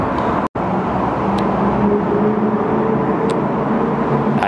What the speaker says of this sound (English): wait for a break in traffic on this side coming towards me